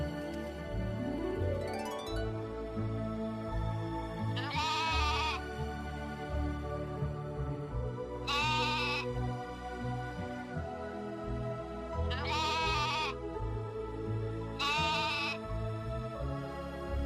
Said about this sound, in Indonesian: terdengar sayup-sayup suara domba yang cukup jauh